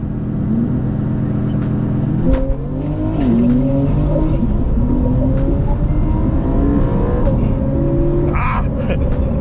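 A tuned Stage 2 991.2 Porsche 911 Carrera and a stock BMW M3 racing side by side, engines droning hard under acceleration with rising pitch and a steady roar, brief gear shifts, loud and close.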